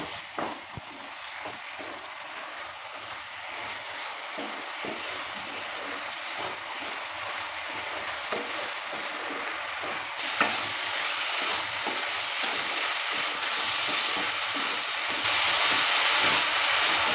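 Potato, pea and paneer curry with tomato frying in a pan, stirred steadily with a continuous broadband sizzle and repeated scraping strokes, loud and close with no talk.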